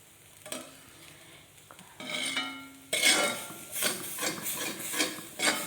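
Grated coconut roasts in an iron pan with scattered clinks and taps at first, then a louder sizzle with rhythmic scraping strokes repeating about once a second, without voices.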